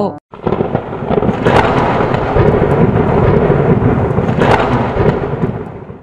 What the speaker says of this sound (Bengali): যা ঝড় বৃষ্টি শুরু হলো, এর মধ্যে তো বাইরেও যেতে পারবো না